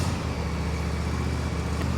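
John Deere S170 lawn tractor engine running steadily at a close, even drone with a low, rough mechanical hum, no talking.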